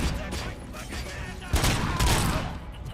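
A pistol fires in the RoboCop Rogue City video game: several quick sharp shots in a rapid burst, louder toward the end, mixed with the game's action sounds.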